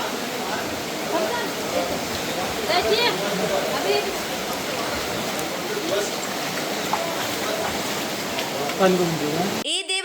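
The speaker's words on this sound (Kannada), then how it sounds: "ಮಲಪ್ರಭಾ ನದಿ ಉಕ್ಕಿ ರಭಸವಾಗಿ ಹರಿಯುತ್ತಿದೆ" Flooded Malaprabha river surging rapidly past a submerged temple at Khanapur, a loud continuous roaring wash with a voice talking over it and a brief handling noise at the end.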